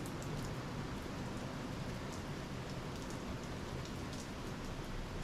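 Steady rain falls at Navarre Beach, a dense even hiss of drops on surfaces that carries on unbroken without any voices.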